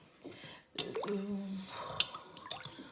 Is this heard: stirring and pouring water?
yes